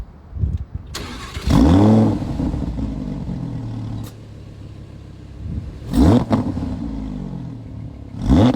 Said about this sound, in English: let me give you guys a startup sound